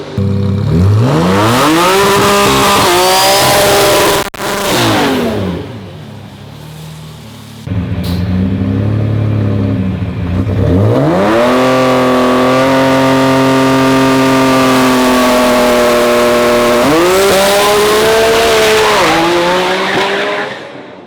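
A Toyota Tacoma pickup truck on a test pass at a racetrack revs hard through repeated rising gear pulls, a loud, close engine howl with tire squeal and a brief lull between runs, no voices.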